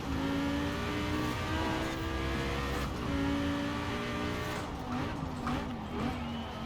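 Lamborghini Huracan Performante engine in Forza Horizon 4, revving loud and steady throughout with shifting pitch across gear changes, a brief dip near the middle and busier tire and traffic noise toward the end.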